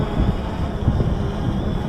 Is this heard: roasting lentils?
no